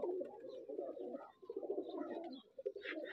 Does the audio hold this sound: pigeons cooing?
yes